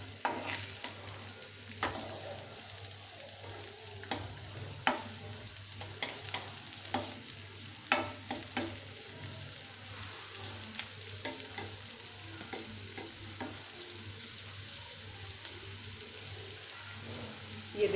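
Onion frying in a pan for Indian-style pasta, stirred with a spoon: a steady low sizzle runs throughout, broken by scattered scraping taps and clicks of the spoon against the pan, close and moderately quiet with no talk.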